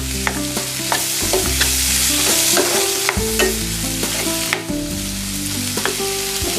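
Capsicum and peas stirred into golden-brown fried onions in a pan, a continuous loud sizzle broken by repeated scraping and clanking of a spoon against the vessel, with no voices.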